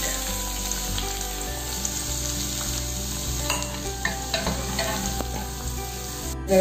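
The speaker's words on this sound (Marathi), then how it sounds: "आता कांदा टाकते फोडणी" Chopped onion sizzles and fries in hot oil as a tempering for Malvani-style kulith pithla, a steady crackling hiss with light stirring scrapes, no voices.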